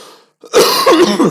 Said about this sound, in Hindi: आज ये खांसी को परेशान करने लगी